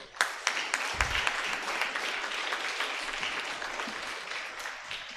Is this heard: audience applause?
yes